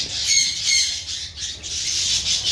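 Harsh, raspy squawking calls from a breeder pigeon hen come close and loud in repeated bursts that run almost continuously, with no talking.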